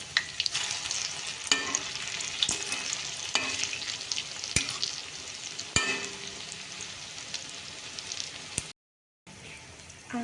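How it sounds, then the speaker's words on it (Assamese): Bhedailota leaf pakoras, an Assamese fritter, sizzle and crackle steadily in hot oil while being turned, with a few sharp clicks of the utensil and a short drop to silence near the end. "অকণমান ফ্ৰাই হোৱা যেন লাগিলে লাহেকৈ লুটিয়াই দিব লাগে।"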